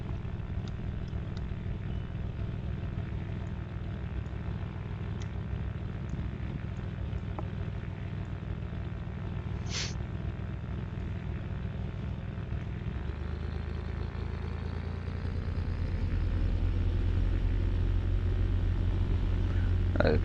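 An SF260 aircraft engine idles steadily while holding at the runway 26 holding point, then rises into a louder, deeper run-up roar near the end, with talk over it.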